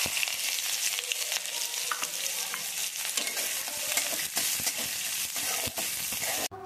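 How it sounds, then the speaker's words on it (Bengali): Dried red chillies, cumin seeds and a bay leaf sizzling and crackling in hot oil, a dense steady frying hiss close up, with scattered stirring clicks and no voices. "এই দেখো এখন তেলে ফোড়ন দিয়ে দিচ্ছি, শুকনো লঙ্কা জিরে আর একটা তেজপাতা।"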